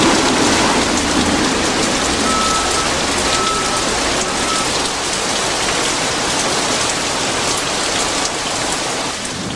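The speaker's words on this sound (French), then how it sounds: "on avait systématiquement droit à une averse tropicale typique de Malaisie" Heavy tropical rain shower in Malaysia, a dense, loud, continuous hiss of rain pouring on surfaces close by, with no break throughout.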